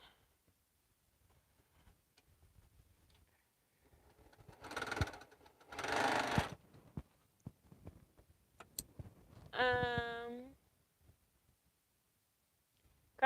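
A sewing machine chain piecing quilt pieces runs in two short bursts, then gives a brief rising motor whine, with near-silence between runs.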